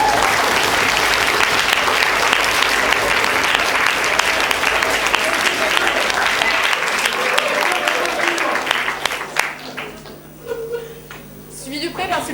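Audience applause at the César awards ceremony, a dense, loud wash of clapping from a large crowd that holds for several seconds and then quickly fades, leaving a voice and sparse sound in a quieter hall.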